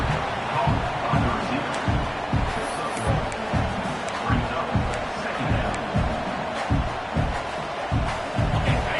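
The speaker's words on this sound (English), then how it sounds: "It's early, but this crowd is fired up. Listen to this noise here" A fired-up football stadium crowd roars steadily, with deep rhythmic booming thumps pulsing about once a second beneath the continuous cheering of a large home audience early in the game.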